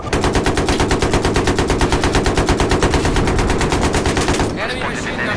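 Rapid, loud machine gun fire in the video game Battlefield 3: a steady stream of evenly spaced shots bursting for about four and a half seconds, then cutting off to quieter battlefield noise.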